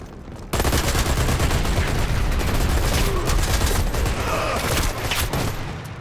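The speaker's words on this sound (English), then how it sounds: "Fire support on its way." A fire support artillery strike in Dirty Bomb arrives as a loud, continuous barrage of overlapping blasts and rapid firing that hammers on without pause, close and dense.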